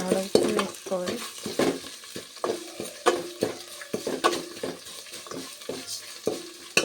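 Spices sizzle in a pan as turmeric and rock salt go in, with repeated close scraping and clinking of a ladle against the pan in an uneven stirring rhythm over a soft frying hiss.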